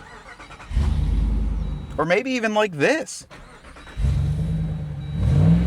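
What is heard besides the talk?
V8 engine revving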